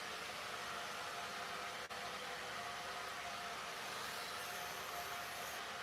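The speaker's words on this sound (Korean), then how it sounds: "이제 드라이기 소리 들린다." A hair dryer runs steadily indoors as a faint, even rush of airflow with a brief dip near the start, then continues unbroken.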